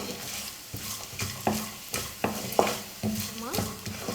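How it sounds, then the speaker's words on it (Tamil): Coconut pieces frying in ghee in a pan, a close soft sizzle broken by repeated scraping stirs of a spoon about every half second, with no voices. "நெய்யில் சும்மா ஒரு நிமிஷம் நம்ம தேங்காவை நல்லா வறுத்து எடுத்துக்கலாம்"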